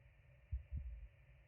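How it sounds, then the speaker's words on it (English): A heartbeat from a living planet in a horror video game throbs low and muffled, a single double thump standing alone over a faint steady hum. "when you listen up, it has a literal heartbeat."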